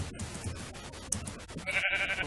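A sheep bleats repeatedly in Minecraft, short nasal cries over busy background noise, ending with a brighter, sustained bleat.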